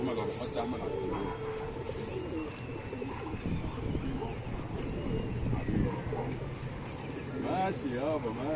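Domestic pigeons coo in soft, repeated warbling calls close by, with people talking over them throughout.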